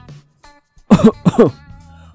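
A person at a medical check-up coughs twice in quick succession, loud and close, after a brief quiet hum.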